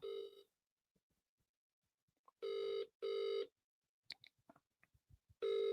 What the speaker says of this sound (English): Let me ring him quickly.